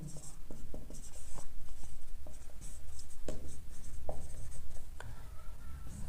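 Chalk or a marker writes on a board in a rapid run of short scratchy strokes and taps, close and steady, with faint speech in the background.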